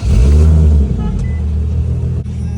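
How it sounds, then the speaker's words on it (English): An Infiniti Q50 engine starts with a loud low rumble that swells for under a second, then settles into a steadier idle hum, close up with no talking. "let's start the car"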